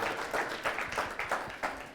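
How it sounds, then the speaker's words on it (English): Audience applause at a real estate seminar, a crowd clapping steadily with scattered bursts, fairly close and continuous for a couple of seconds. "So you can clap for that."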